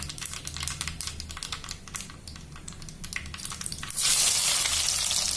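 Sliced onions tipped into hot oil in a pan after mustard seeds have popped, frying with a loud, steady sizzle that rises sharply near the end, after a run of crackling spatter.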